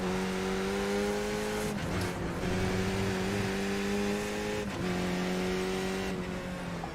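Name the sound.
race car engine with manual throttle blips in iRacing video game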